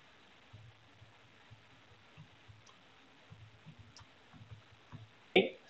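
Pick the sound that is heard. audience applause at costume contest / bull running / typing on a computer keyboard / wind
typing on a computer keyboard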